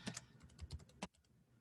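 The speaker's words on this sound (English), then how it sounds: "hit return again, and then I would start typing again" A computer keyboard tapped quickly in a quiet room, a close burst of about a dozen clicks and keystrokes that ends in a soft pause.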